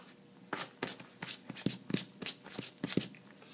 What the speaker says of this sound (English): He pawed the dirt.